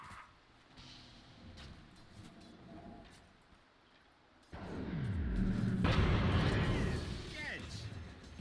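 A Dota 2 catapult hits a tier 1 tower during a pro match. A deep, rumbling impact rises midway and stays loud, with heavy booming under the game's ongoing battle noise.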